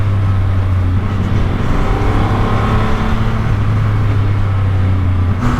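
A Triumph Rocket 3 Storm motorcycle pulls hard at half throttle, its deep, steady engine drone loud and close throughout with no talking.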